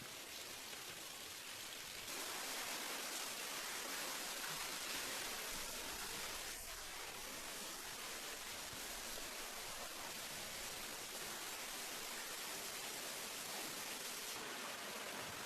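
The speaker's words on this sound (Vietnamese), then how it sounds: "do nước suối chảy liên tục quanh năm" A mountain stream at a canyon mouth flows steadily, producing a continuous broad rushing wash of water with no breaks and no voices.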